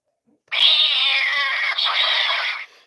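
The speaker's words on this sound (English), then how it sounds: "There's that cat. We got a cat here." A cat gives one long, loud, drawn-out meow close by, lasting about two seconds with a brief break midway, otherwise quiet around it.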